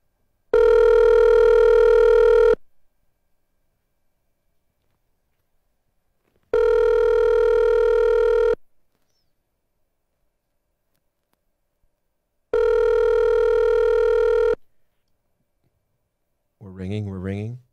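Telephone ringback tone on an outgoing call, three steady two-second rings separated by long silent gaps, clear and loud, followed by a brief voice at the end.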